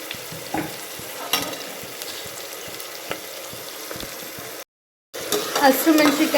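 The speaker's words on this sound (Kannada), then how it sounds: "ಇದು ಹಸಿ ಸ್ಮೆಲ್ ಹೋಗೋ ತನಕ ಚೆನ್ನಾಗಿ ಫ್ರೈ ಮಾಡ್ಕೊಳ್ಬೇಕು" Onions and green chili paste fry in a pan with a moderate crackle and irregular stirring clicks, broken by a brief gap, and a faint voice is heard near the end.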